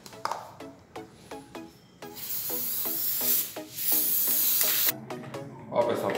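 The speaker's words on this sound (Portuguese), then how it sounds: "eu vou dar uma chamuscada com essa tinta spray metálica" A can of metallic spray paint hisses in a steady, loud burst lasting about three seconds, broken at the start and end by short puffs, with a few faint knocks and a voice murmuring briefly in the background.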